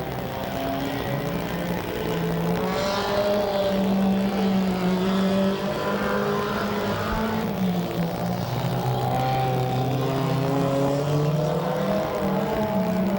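Mini stock race cars run a trophy dash, several small-engine cars roaring together in a loud, continuous drone with rising and falling pitch as they lap the track.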